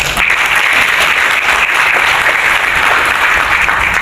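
A large audience at a Catholic youth organization's leadership inauguration applauds a government minister, loud, sustained, even applause filling the whole stretch.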